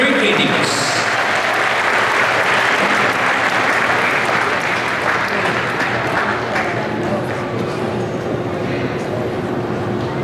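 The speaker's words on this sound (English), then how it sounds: "let us give a resounding applause of commendation to the top completer of this batch" Loud, sustained audience applause for a junior high school valedictorian at a graduation ceremony, a dense steady roar of clapping with a faint voice underneath.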